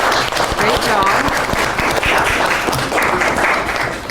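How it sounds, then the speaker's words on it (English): Applause from the audience and participants after a mock trial showcase, a loud, sustained burst of many hands clapping close by, with some cheering mixed in, filling the whole moment. "Give yourself a round of applause."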